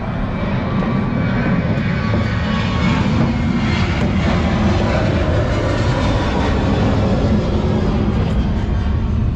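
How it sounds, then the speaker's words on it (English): An airplane roars steadily overhead, a broad, loud engine rumble that fills the whole stretch without easing. "we got a plane passing"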